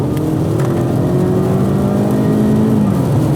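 A 245-horsepower Genesis G70 engine revs hard as the accelerator is floored, a loud, close, rising drone that holds and then shifts pitch near the end.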